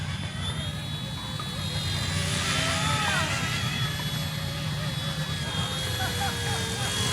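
A small RC ERA C138 Bell 206 remote-control helicopter flies outdoors with a steady high whine. The whine continues throughout over constant wind or hiss, with no clear pauses.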